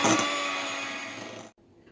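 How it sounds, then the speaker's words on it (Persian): An electric mixer whirs loudly and steadily while beating cream for a cake, then cuts off abruptly near the end, leaving quiet. "بار دیگر با میکسر لرد میزنیم."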